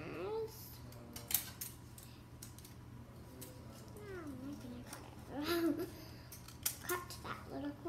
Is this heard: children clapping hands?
no